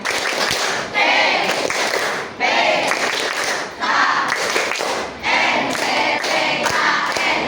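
A classroom of students claps a rhythmic PPKN chant in loud, repeated bursts of clapping and voices, each phrase about a second and a half long with short breaks between.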